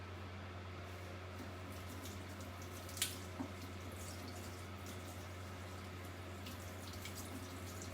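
Tap water runs steadily into a kitchen sink while herb leaves and stems are washed for tuna potato cakes, a constant hiss with a low electrical hum and a couple of small knocks, with no talk.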